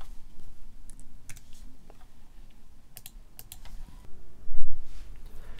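Code typed on a computer keyboard for a JUnit exception test, crisp bursts of close key clicks in uneven runs with short pauses, alone without speech.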